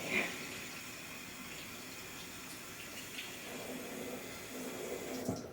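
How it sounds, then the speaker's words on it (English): Water runs steadily from a tap as a russet potato is rinsed under it, a constant close splashing hiss with slight shifts near the end. "gotta rinse off the potato"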